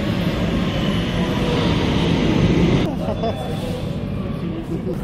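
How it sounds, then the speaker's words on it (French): Brussels metro train ride with a steady, loud rumble of wheels and motors that drops to a quieter hum partway through, with a brief voice heard. "Donc nous sommes dans le métro et on se dirige vers la Grand Place de Bruxelles."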